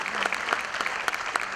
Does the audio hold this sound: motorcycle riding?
no